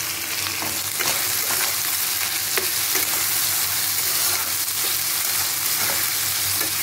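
Rohu fish chili masala with tomatoes, salt, turmeric and a pinch of sugar sizzling hard in a hot pan, loud continuous frying hiss with repeated scraping and knocking of a spatula as it is stirred, close up, no talking.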